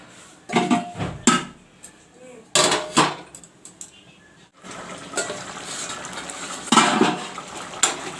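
A lid is set onto a cooking pot of simmering chicken curry with tomatoes and water in a home kitchen, giving a few sharp metallic clanks and scrapes amid faint bubbling and handling noise.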